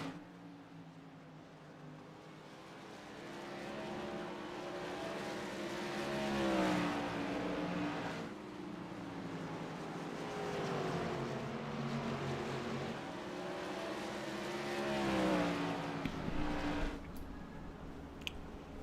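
Race cars roar around an oval track, engines swelling and fading as the pack passes in single file, each car's pitch dropping as it goes by, heard from a distance over a steady background drone.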